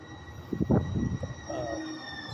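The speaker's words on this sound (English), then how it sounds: "Another Muni train." Muni light-rail train passing on a San Francisco street, a rumbling low roar with a brief metallic squeal, heard moderately near against steady traffic hum.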